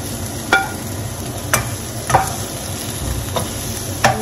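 Sweet pepper goes into a hot cooking pot and sizzles continuously, with a handful of spaced utensil clinks and scrapes on the pot's rim and base standing out above the frying hiss.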